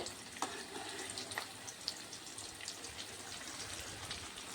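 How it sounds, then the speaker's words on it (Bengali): Fish roe fritters fry in hot oil, a soft continuous sizzle with faint crackles and a few small clicks, fairly quiet and without voices. "এগুলো এখন ভেজে নেব ভালো করে।"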